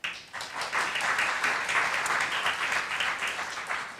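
An audience at a tech talk claps for an incoming speaker, a full, dense round of applause that starts abruptly and holds at steady strength throughout.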